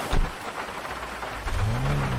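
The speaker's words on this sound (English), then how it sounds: "If you're driving an old car in the rain, you will hear the drops hitting the roof." Raindrops drum on the roof of an old car in the GTA 5 video game, a dense patter of rain with a low rumble, loud and steady, and a muffled thud near the start.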